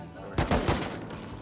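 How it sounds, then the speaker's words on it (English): Gunfire from a bunker gun in the survival game Rust, three loud sharp shots spaced a little apart near the start, each fading into a short echoing tail over a low background. "It's a bunker gun."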